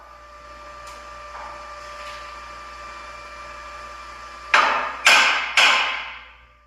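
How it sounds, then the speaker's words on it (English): Three sharp metallic hammer taps, evenly spaced near the end, ring out against a clamped steel assembly being squared up for welding, preceded by a steady shop hum. "Got it clamped down using the hammer to square it up."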